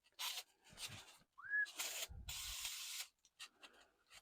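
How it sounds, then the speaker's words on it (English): 3M spray adhesive hisses from a can onto a model railroad tree in several short bursts, close and crisp, with a brief squeak between sprays. "I want to spray down the tree"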